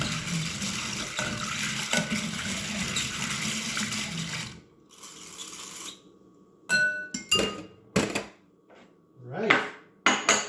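Butter and milk being stirred into scone mixture in a bowl, with clinking glass and utensil taps; a dense, busy stretch of mixing noise gives way to quieter, separate knocks and scrapes near the end.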